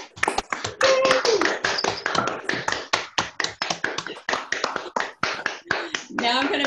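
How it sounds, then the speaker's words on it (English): Participants in an online community group talk, unmuted on a video call, clap together in a ragged, uneven burst of sharp individual claps and taps, close and crisp, with a few voices mixed in. "we're going to do a round of applause for Cameron"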